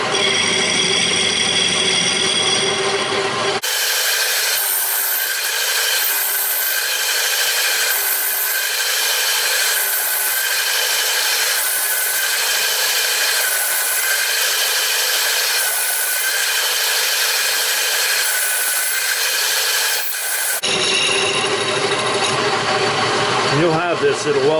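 Milling machine cutting an aluminum router plate, taking a pass about 40 thousandths deep: a steady, loud, continuous cutting whine with a rhythmic pulsing, starting and stopping abruptly with quieter shop sound on either side.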